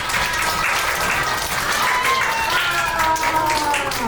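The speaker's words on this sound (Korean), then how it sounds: "김지환 리더님을 큰 박수로 맞이해주세요." A large audience at a winter youth camp concert applauds to welcome a speaker, loud, dense clapping that fills the room steadily throughout, with faint voices mixed into the crowd noise.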